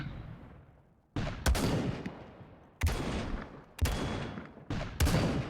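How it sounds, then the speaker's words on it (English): Five sharp metallic clacks and thumps from a game rifle, a magazine seated and the bolt racked, each impact followed by a short ringing decay, spaced irregularly and fairly loud. "So drop a magazine in, rack the bolt, and you're ready to fire."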